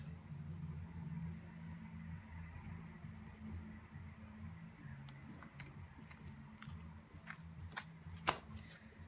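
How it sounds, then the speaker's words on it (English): A tarot card deck is cut and shuffled by hand, soft papery riffles and sharp card taps near the end, quiet and close over a faint background hum. "let's cut the deck for you. And then y'all know I always cut my deck twice."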